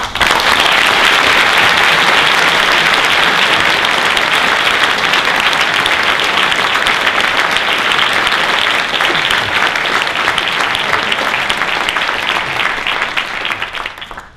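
Warm, sustained applause from a lecture audience at the London School of Economics welcoming Professor David Harvey, dense and steady clapping filling the hall for about fourteen seconds before tapering off at the end.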